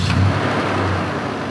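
A 1996 Toyota pickup truck with a V8 and 236,000 miles starting up: a short burst of cranking catches into a steady, close engine idle with low rumble and no talking.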